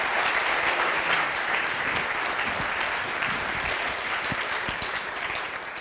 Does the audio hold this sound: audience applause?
yes